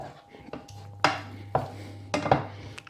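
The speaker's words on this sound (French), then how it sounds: "On écrase un petit peu avec la spatule." A spatula knocks and scrapes against a bowl while mixing and mashing choux pastry dough, giving a few distinct clacks spaced about half a second apart over a quiet room hum.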